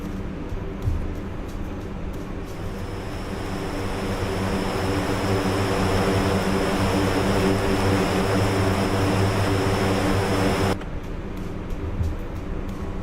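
A C-130 propeller transport plane drones in a video game, with a loud, steady engine hum and prop whine that cuts off abruptly near the end.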